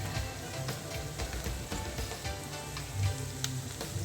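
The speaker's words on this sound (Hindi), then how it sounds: "इसको भी प्याज के साथ थोड़ा सा ऑयल में हम फ्राई करेंगे" Onions and green chillies frying in a little oil give a steady, quiet sizzle with fine crackling pops, close and low in level, with no talking.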